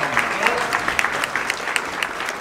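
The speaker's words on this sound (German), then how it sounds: "Ein großer, herzlicher Applaus hier" A crowd at a travel-industry congress, the ITB Kongress 2019, claps continuously, a dense steady patter of applause filling the room.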